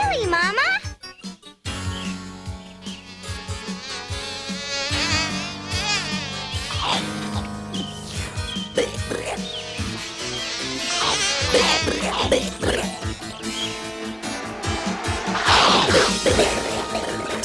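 A swarm of honeybees buzzes loudly in a 1988 Berenstain Bears cartoon, a dense, wavering insect drone layered with music and cartoon sound effects, while children's voices talk over it throughout.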